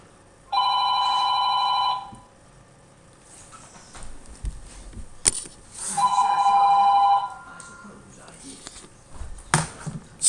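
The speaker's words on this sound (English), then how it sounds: "I got my phone ringing." A phone rings in two bursts of electronic trilling tones, with scattered clicks and thuds between the rings.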